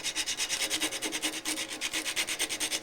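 Points on a wooden ornament are rounded by hand with a small piece of 100 grit sandpaper, giving a quick, even back-and-forth rasping rhythm close by.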